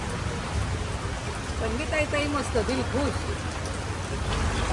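Steady heavy monsoon rain hisses throughout at a market, dense and constant, while a voice talks briefly underneath.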